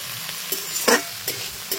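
Cooked rice frying in a pan with cashews and raisins added, a steady close sizzle broken by several short scraping stirs.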